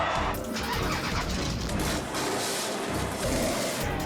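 A drag racing car engine firing up at a four-wide drag strip event, a loud, continuous roar close by with rough rumbling throughout.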